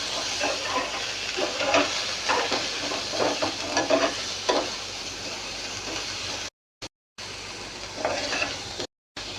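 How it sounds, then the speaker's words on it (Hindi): Garlic paste fries in cooking oil in a pan with a steady, close sizzle and scattered crackles and stirring scrapes, briefly cut by two short gaps of silence near the end. "इसमें 1 टेबलस्पून गार्लिक पेस्ट डाल देंगे और इसे 1 मिनट के लिए फ्राई कर लेंगे"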